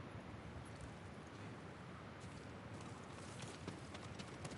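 Horse hooves clip-clopping at a steady run in the samurai video game Ghost of Tsushima, heard against a constant wash of wind and ambient game noise with no talking.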